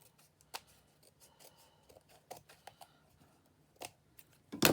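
Scissors snip along paper edges while trimming a journal spine, a quiet series of irregular close crisp cuts with small rustles, ending in a louder handling noise.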